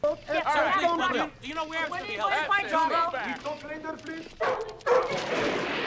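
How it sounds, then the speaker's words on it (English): A dog in the 1985 film Rocky IV barking and whimpering in a run of quick, wavering yelps and whines, fairly loud within the movie soundtrack, followed by a brief louder burst near the end. "Oh, the dog, so cute."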